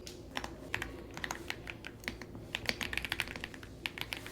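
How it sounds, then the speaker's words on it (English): Fingers type on a computer keyboard in quick, uneven bursts of crisp key clicks with short pauses between, close and moderately quiet, with no speech. "We'll just type that there."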